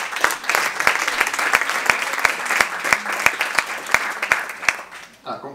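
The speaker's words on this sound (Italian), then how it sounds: "un altro applauso" Audience applause at an Italian music event fills the room with steady, dense clapping that carries a few sharper, louder claps, then thins out toward the end.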